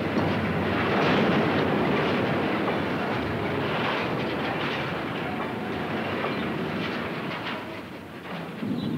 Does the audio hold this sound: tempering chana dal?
no